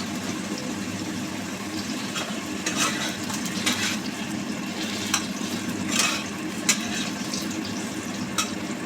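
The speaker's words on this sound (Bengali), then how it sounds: "সেই জন্য আলুটা আগে ভেজে নিচ্ছি" Potato pieces, seasoned with a little turmeric and salt, fry in a pan as the first step of a dhoka dalna: a continuous close sizzle with intermittent stirring scrapes and soft clatter, no speech.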